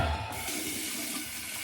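Hot water runs steadily from a tap to wet a badger shaving brush, a constant close hiss and splash with no voices over it.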